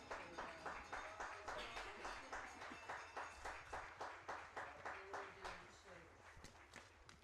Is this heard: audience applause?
yes